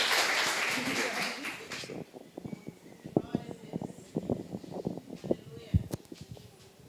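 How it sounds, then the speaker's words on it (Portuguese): Church congregation applauding at a Sunday evening service, a broad burst of clapping that fades after about two seconds, followed by scattered claps and a voice speaking over them. "seja aplaudido o Senhor Jesus"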